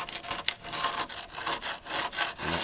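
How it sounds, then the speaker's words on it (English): A putty knife scraping loose old finish off a wooden shelf, rough rasping strokes repeating in a quick uneven rhythm, close and fairly loud, with no talk. "take a putty knife and just start scraping as much of the loose stuff off as I can"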